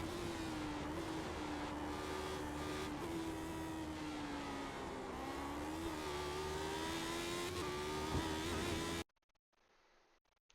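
A Lotus 79 race car engine in a racing video game replay at Suzuka screams at high revs from the onboard view, its pitch rising and dipping through gear changes before cutting out abruptly near the end.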